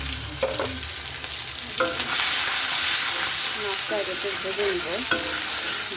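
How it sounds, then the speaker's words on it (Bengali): Spices sizzle and crackle loudly and continuously in oil, with occasional scraping stirs of a spoon in the pan, while cooking taro leaves with shrimp. "মশলা একটু ভেজে নিব"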